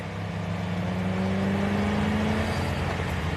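Car driving up through a neighbourhood street, a steady engine hum with a rising whine as it approaches, moderately loud and close, with no voices over it.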